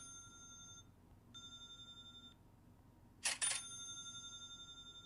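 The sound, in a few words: cha-ching push notification sound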